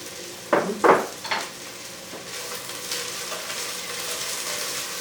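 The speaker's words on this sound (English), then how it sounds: "as our onions are in the pot, we are also going to add our thyme as well" Onions and thyme frying in a pot, a steady crisp sizzle with a few sharp stirring scrapes near the start, close and alone without talk.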